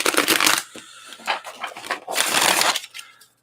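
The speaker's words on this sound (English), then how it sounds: "New deck. Big cards. Hard to shuffle." A new deck of large tarot cards being shuffled by hand in bursts of riffling and rustling, close up and fairly loud, with no talk.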